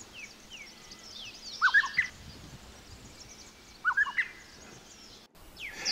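A rusty-cheeked scimitar babbler calls in Thailand: two short, clear bursts of notes a couple of seconds apart, moderately near over a faint forest background hum.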